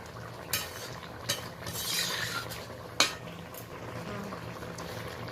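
Fried pabda fish being added to a simmering curry pan with eggplant, giving a few sharp clinks of utensil on pan over a steady low bubbling and sizzle.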